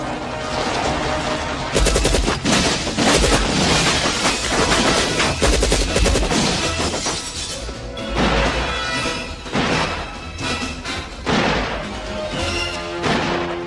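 Police open fire on an armed man with a machine gun in a French action film, a loud, sustained barrage of gunfire and crashing impacts running throughout, dense and unbroken with no speech.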